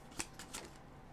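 Tarot cards being shuffled in a short burst, a few quick papery riffles close by, alone and fairly quiet.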